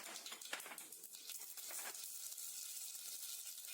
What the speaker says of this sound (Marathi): आता आपलं तेल गरम झालेलं आहे। आपण थोडीशी त्यात मोहरी टाकूया